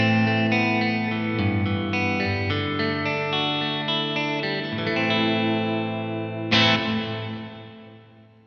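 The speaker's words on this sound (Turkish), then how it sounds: "Reverb kuyruğunun biraz daha parlak duyulduğunu hissediyorum." An electric guitar plays sustained chords through a Universal Audio UAFX Heavenly Plate reverb pedal on its B plate setting, with a bright, lingering plate tail under each chord and a fresh strum near the end that rings out and decays.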